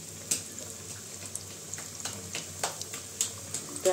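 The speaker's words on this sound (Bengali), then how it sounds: "তো আমি 2বারে ভাজবো" KFC-style chicken fries in hot oil, a faint, steady sizzle with scattered small pops and crackles.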